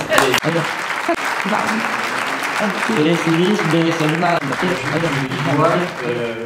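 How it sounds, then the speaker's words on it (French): An audience claps steadily in a hall at a medal ceremony, honouring a doctor's wife. Dense, sustained applause runs throughout, with harmonic voices and murmuring mixed in beneath it. "j'aimerais qu'on l'applaudisse"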